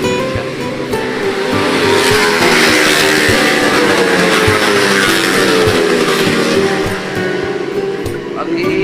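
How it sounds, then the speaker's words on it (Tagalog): Loud, continuous engine roar of motorcycles racing nearby, with revving and whining tones filling the scene throughout. "Iingay ng mga motor nagre-racing."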